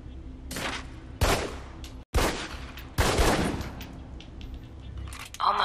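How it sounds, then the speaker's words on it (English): Aimed gunshots fired at a target in Alpha Protocol, the Xbox 360 shooter: four loud, sharp reports spaced about a second apart, each with a short ringing tail, and a brief silence after the second shot. "steady your aim for a few seconds, then fire"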